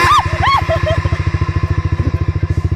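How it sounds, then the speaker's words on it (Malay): A 150 cc motorcycle in neutral sits idling close by with a fast, even low thumping pulse, while people speak over the opening moments. "sekarang ni Aisyah dia nak alihkan motor untuk break"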